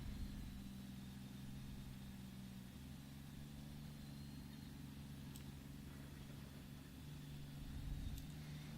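Tank engine from the video game World of Tanks pushing an E-75 up a small hill on soft terrain, a steady low labouring drone with no talk over it.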